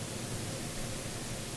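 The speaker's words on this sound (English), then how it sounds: "it is white noise, so it's got a lot of high frequencies there anyway" Steady high-pass dither white noise from the Airwindows PaulWide plugin, a bright, even hiss with thinned lows, constant and alone without any variation.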